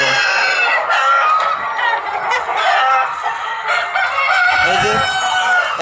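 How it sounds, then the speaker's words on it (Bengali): Hens cluck loudly and close while laying eggs, with repeated rising calls and a rooster-like cry among them, steady and busy throughout, with faint talk in the background. "এই যে মুরগি ডিম দিচ্ছে।"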